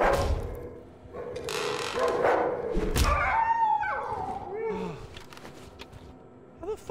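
Thumps of a dog pawing at a door in the Darkwood survival horror game, a few heavy knocks near the start followed by scattered growls and game sounds, with a player reacting loudly over it.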